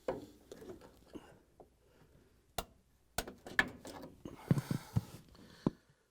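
Pliers squeeze a hose clamp on a Frigidaire sump hose, giving a few sharp metallic clicks and scraping rattles, close and quiet with gaps between.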